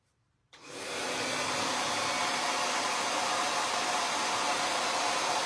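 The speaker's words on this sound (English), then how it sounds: "I am going to blow dry this a little bit." A hair dryer switches on after a brief silence and blows at a steady, loud, even whoosh, close by and alone with no voices.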